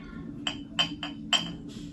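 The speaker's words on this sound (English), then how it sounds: "So yeah, I just going to go ahead and pour me a glass." Three or four bright glass clinks ring out at a steady pace over a low background hum, likely a wine glass being set down and touched while wine is poured at home.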